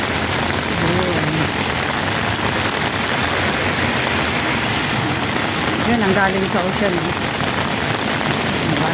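Heavy rain pours steadily outdoors under a dark sky, a dense continuous hiss close by, while someone talks over it now and then.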